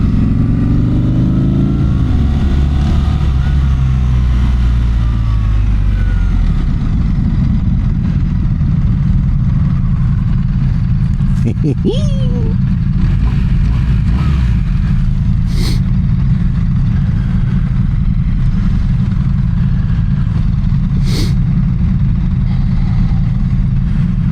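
A BMW R1300RS motorcycle's engine drones steadily while riding on a road, with a rising rev early on, constant wind rush and a few brief clicks over the continuous loud ride noise.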